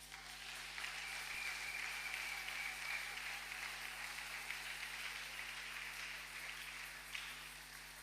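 A church congregation applauds steadily as the preacher comes forward, a dense, even wash of clapping that carries on without pause from start to finish and stays at a moderate distance.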